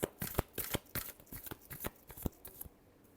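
Tarot cards riffle-shuffled in a quick series of sharp, close papery bursts with short gaps, alone and fairly quiet.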